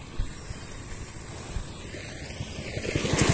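A motorbike drones steadily with a rising engine note that grows louder toward the end, over wind noise and a high-pitched background whine.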